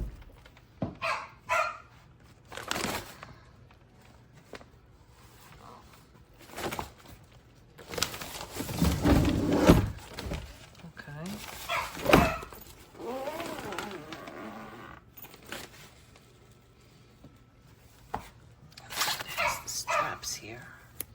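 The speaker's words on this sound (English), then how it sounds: "I apologize for our dog. He's in a mood tonight." A dog indoors barks in a few sharp bursts with whimpers and yips in between, close and loud, while people talk quietly through long stretches.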